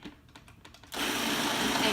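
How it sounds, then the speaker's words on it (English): A blender whirs up a Caesar salad dressing with flattened anchovies, starting suddenly after a second of quiet clatter and then running loud and steady. "stick it all into a Cuisinart or a blender, turn it on, mix it up"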